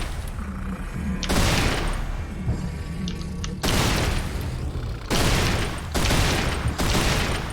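Devastator weapon fired repeatedly in Serious Sam 4, several loud booming blasts in an irregular rhythm, each a broad crashing burst that rings out before the next, with a quieter stretch of game noise between the first shots.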